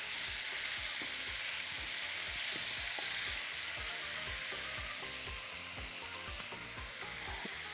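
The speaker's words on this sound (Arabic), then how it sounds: "ضروري ضروري الصينية تكون سخنة والمادة الدهنية سخنة علشان ننزل بالفراخ تلون معانا كده على طول" Chicken searing in hot fat in a hot tray, a dense continuous sizzle with rhythmic scraping knocks of a utensil against the metal, close and steady, no speech.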